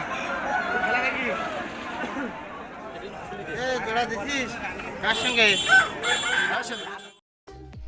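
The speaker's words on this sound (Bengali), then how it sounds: "এইবার আমরা দেখব সুন্দরবন অঞ্চলের ঐতিহ্যবাহী মোরগ খেলা" Roosters crow at a traditional cockfight held in a field in the Sundarbans region, heard amid a chattering crowd with people talking nearby.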